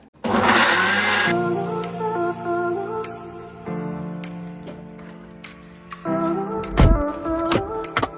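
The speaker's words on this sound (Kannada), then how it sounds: "ಇವಾಗ ಮತ್ತೆ ಈಗ ಸಣ್ಣ ಮಿಕ್ಸಿಗೆ ಹಾಕಿದ್ಯಲ್ಲಮ್ಮ, ದೊಡ್ಡ ಮಿಕ್ಸಿ ಇದಾಗ್ತಿಲ್ಲ" A small kitchen mixer grinder whirs loudly in several bursts, its motor pitch shifting between runs with brief pauses and clatter between them, with no talking.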